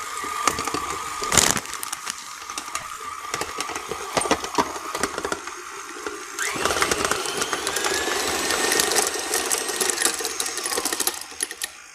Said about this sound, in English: My KitchenAid is saying, I have had enough.